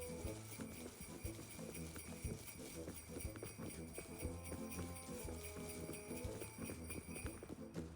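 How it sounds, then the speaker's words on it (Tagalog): Horse hooves clip-clop steadily in the video game Rust, a continuous rhythmic patter at moderate level over game ambience, with no talk. "May kabayo baka active to."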